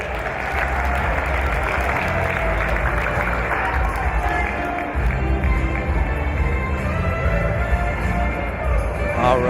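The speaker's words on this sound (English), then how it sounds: "2 big claps for Jeff" A crowd at the 2025 Infinity Nationals finals show gives a loud round of applause with some cheering. Dense clapping holds throughout, mixed with a busy background of voices and sound.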